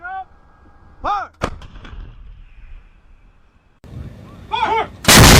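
An M777 155mm towed howitzer fires with a sharp, very loud blast near the start, followed by a second booming report close by at the end, while a voice shouts commands in between.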